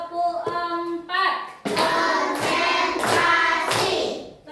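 Pupils in a classroom clap a rhythm pattern together, several loud grouped claps in a row following a teacher's spoken cue.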